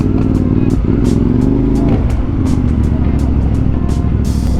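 A CF Moto 450MT adventure motorcycle on a Batangas back road, its engine droning loud and steady up close with a brief rise in revs, wind buffeting throughout.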